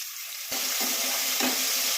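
Chopped tomato tipped into browned onions frying for a pabda fish chorchori, a quiet pan suddenly erupting into a loud, close, hissing sizzle that keeps going, with a couple of soft knocks, no speech.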